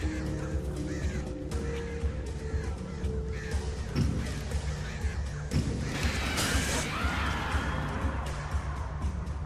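Crows caw in the video game Alan Wake, several harsh calls over a steady low game ambience, faint and somewhat distant, with a sudden crash partway through.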